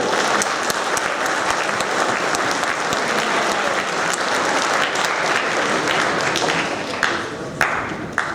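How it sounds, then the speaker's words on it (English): Audience at an 8th grade awards ceremony applauds steadily for several seconds, a dense, loud wash of clapping with no voices over it. "how about another round of applause for them?"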